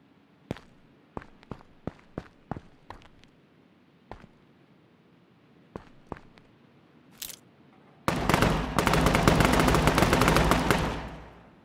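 Scattered single gunshots from the video game H1Z1: King of the Kill crack out one at a time, then a dense, continuous burst of rapid automatic fire erupts and fades near the end.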